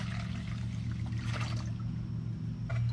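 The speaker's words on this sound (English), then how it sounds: "so pour all the water in the bowl." Water, 32 ounces for diluting a plant spray, poured into a bowl in a steady continuous trickle for a few seconds, close and fairly quiet, no talking.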